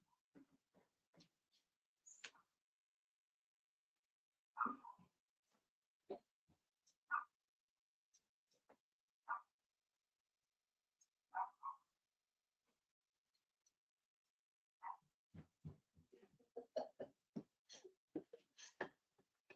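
Dogs barking indoors at home, a string of short, moderately close barks and yelps that come in scattered bursts and then a faster flurry toward the end, with quiet gaps between them.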